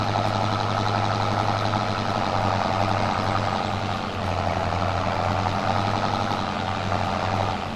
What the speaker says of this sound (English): Oh, what a good sounding tractor.